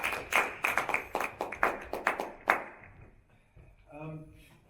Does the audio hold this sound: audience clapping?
yes